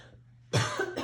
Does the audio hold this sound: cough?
yes